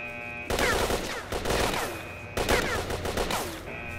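Bursts of automatic gunfire in S.T.A.L.K.E.R.: Shadow of Chernobyl rattle loudly in two long fusillades, each a rapid stream of sharp shots with brief gaps between.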